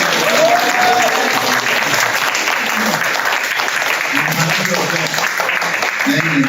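Church audience at a Saturday sermon clapping steadily, a dense wash of applause with voices murmuring and speaking underneath throughout.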